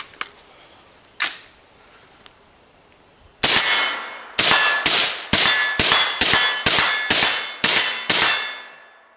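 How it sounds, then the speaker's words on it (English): A rifle fires white-cased PCA Spectrum polymer-cased ammunition at steel targets: two spaced sharp cracks, then a rapid, steady string of about ten loud reports, each with a ringing decay. No one speaks. "Let's go to 10 rounds of the white cased PCA Spectrum ammo."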